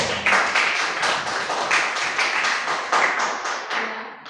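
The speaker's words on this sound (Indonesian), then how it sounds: "tepuk tangan lagi" A classroom of students applauding together at school, a moderately loud burst of clapping that comes in rhythmic waves and stays fairly close, with no speech over it.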